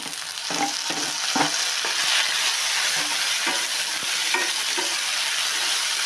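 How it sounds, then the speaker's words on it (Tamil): Onions and tomatoes fry in a pan for pottukadalai kurma, a loud continuous sizzle punctuated by regular scraping knocks of a spatula stirring, close by with no speech. "நல்லா தக்காளி மசைகிற அளவுக்கு வதக்கணும்"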